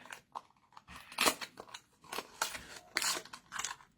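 Crinkly packaging torn and snipped open, a razor blade pack, in sharp close crackles and cuts separated by brief quiet gaps, fairly faint overall.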